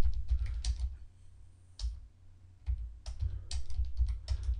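Fingers type on a computer keyboard in quick bursts of clicking keystrokes separated by short pauses, close by over a low background hum, with no voices.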